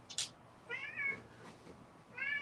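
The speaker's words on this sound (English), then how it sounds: "Sorry for the cat interruption." A cat meows indoors, giving three short rising calls spaced across a couple of seconds, close and clear against a quiet room.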